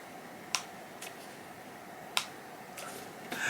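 Several sharp, faint plastic clicks from a cosmetic moisturizer jar's lock mechanism sound at irregular intervals, a few isolated snaps against a quiet background.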